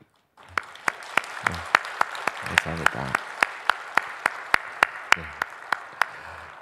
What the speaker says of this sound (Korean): 한번 자리에서 일어나시면 우리 박수로 환영하고 축복하도록 하겠습니다.